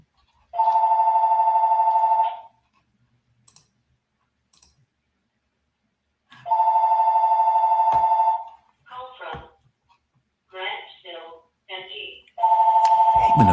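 A telephone rings in long electronic trills separated by pauses, loud and close, while someone speaks briefly between the rings.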